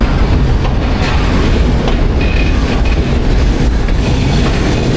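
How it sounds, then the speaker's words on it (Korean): A train rolls steadily along the tracks, heard from outside a passenger carriage in second class, with a dense continuous rumble and faint clickety-clack of wheels, loud and unbroken, with no talking. "기차는 생각보다 그렇게 빠르지 않은데?"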